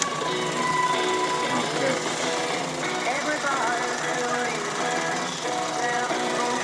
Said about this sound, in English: The engine here, running a small alternator, operates this radio.